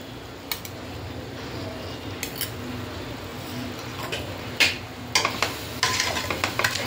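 Masala spices roast in two to three spoons of ghee for a one-kilo veg biryani, giving a low, steady sizzle. Several sharp spoon-on-pan scrapes and clicks come toward the end.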